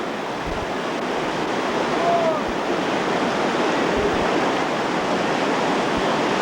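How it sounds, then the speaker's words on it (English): A river bends in a horseshoe and pours over a six-to-eight-foot ledge on an East Coast rafting run, a loud, steady, broadband roar of falling whitewater filling the whole stretch without a break. "The river takes a horseshoe bend and then drops over a nice 6 or 8 foot ledge right here."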